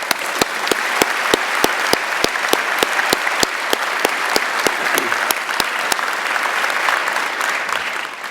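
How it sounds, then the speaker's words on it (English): A large audience at a university chancellor's inauguration ceremony applauds the master of ceremonies; continuous, dense clapping with a loud, regular sharp clap close by cutting through the crowd roughly twice per second. "How about a round of applause for our Master of Ceremonies, Gail Klappa."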